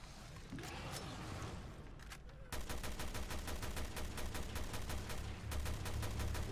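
Rapid automatic gunfire in Resident Evil Revelations 2 rings out as a steady, loud burst of evenly spaced shots that runs without a break through the second half, after a quieter stretch of game ambience.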